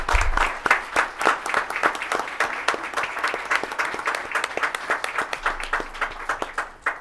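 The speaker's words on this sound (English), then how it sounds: "if we could just give them a big round of applause" An audience at a school board meeting gives students a round of applause: distinct, close handclaps in a lively, uneven rhythm, individual claps standing out rather than blending into a wash.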